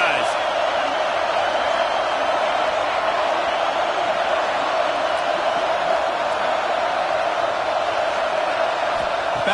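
A stadium crowd at a football game roars as a dense, steady wash of noise with no break, loud and close for the whole stretch.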